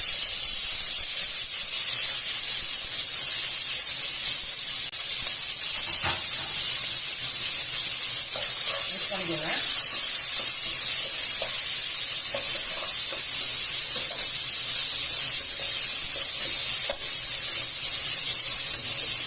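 Julienned onions and green chillies fry in hot oil for Karaikudi chicken curry, giving a loud, close, unbroken sizzle and hiss with faint stirring clinks throughout.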